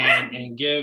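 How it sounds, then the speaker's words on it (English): A pet dog barks twice in quick succession, loud and close, with a voice speaking over the barks. "sorry, that was my dog"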